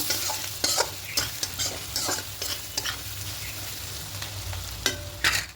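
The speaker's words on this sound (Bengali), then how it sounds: "এবার এটাকে দিয়ে দেব দিয়ে খুব ভালো করে মিশিয়ে নেব" Ground turmeric, coriander, chilli and ginger powders sizzle in a hot pan while a spoon stirs and scrapes them. A steady frying hiss runs underneath, with sharp, irregular scraping strokes close by and no voices.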